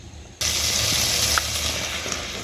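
Chana dal hits hot spiced oil in a pan, setting off a sudden, loud, steady sizzle that carries on close by, with a small pop partway through.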